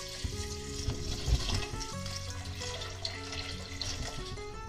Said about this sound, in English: I'm putting about 1/2 litre of water, more or less, like that.